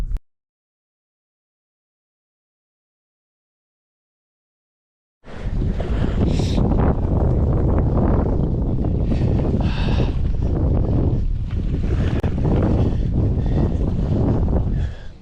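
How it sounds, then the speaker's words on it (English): After several seconds of silence, loud gusting wind roars across the microphone at a muddy lake boat dock, buffeting it continuously with rumbling noise. "And it's windy like crazy."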